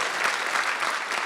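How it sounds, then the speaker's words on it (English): A crowd at a civic gathering applauds a visiting city mayor, a short burst of even, continuous clapping in a large room. "Chris Coleman, please give him a round of applause and thank him."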